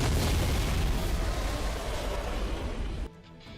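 Heavy explosion from the Halo 3 video game, a loud sustained rumbling boom that fills the first three seconds before cutting off abruptly into near silence.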